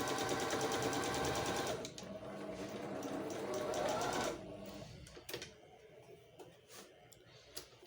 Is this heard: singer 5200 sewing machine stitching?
yes